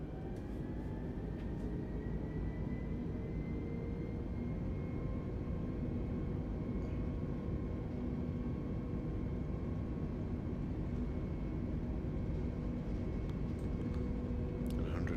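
Airliner engines spooling at takeoff thrust in Microsoft Flight Simulator 2020, on a departure from Jersey, as a steady, dense roar with a faint rising whine layered over it, continuous and even throughout.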